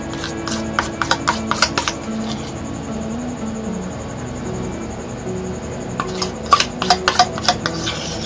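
Ganache being mixed into white cream in a bowl: a utensil clicks and taps in quick bursts at the start and end, with soft scraping strokes between and a faint steady tone in the background.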